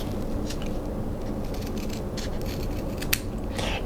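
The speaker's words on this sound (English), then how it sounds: "an easy way to get the ends rounded and cut it appropriately is just cut it straight off like this" Scissors cutting kinesiology tape straight across and rounding the ends for foot taping, with a few quick close snips and crisp clicks over a steady low background hum.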